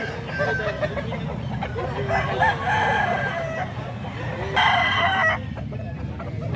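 A rooster crows at a poultry stall, with clucking fowl around it and a busy, murmuring background of other birds and people throughout.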